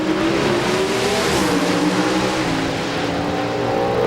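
Roaring Pro Stock drag racing cars at full throttle in a 1992 NHRA final, a loud, sustained high-pitched engine whine rising in pitch with dense mechanical noise throughout.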